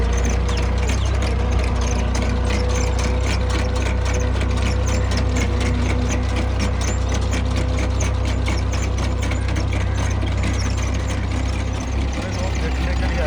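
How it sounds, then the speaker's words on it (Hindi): Tractor engine pulls a corn planting machine in a field, a loud continuous idling drone with steady rapid mechanical ticking running through it from start to finish. "ट्रैक्टर की आवाज़ आपको आ रही है।"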